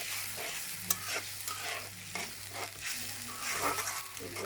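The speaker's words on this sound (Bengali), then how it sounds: "এখানে টক টক দই দেওয়ার পরে একটু ঘন ঘন নাড়াচাড়া করতে হবে" Chicken biryani masala with sour yogurt is stirred in a wok, giving a close scraping and sizzling with soft irregular spoon clatter and no talk.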